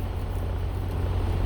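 A Freightliner truck's DD12 diesel engine idles steadily just after start-up, a close, continuous low rumble with a deep, even hum.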